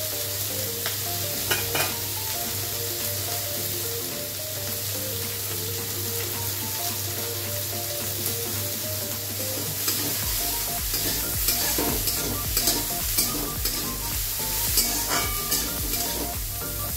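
Green chillies fry in a hot pan, a loud, continuous close sizzle with intermittent scraping and clinking of a spoon stirring, growing busier toward the end, with no talking.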